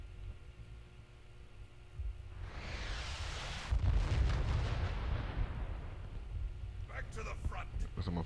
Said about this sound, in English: The enemy has fired the orbital cannon.